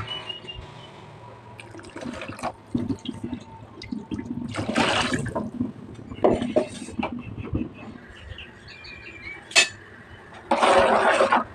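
Water poured into a pan on a lit stove for tomato rasam, with several separate bursts of splashing and filling between quieter gaps, plus occasional clinks of the vessel, close and fairly loud.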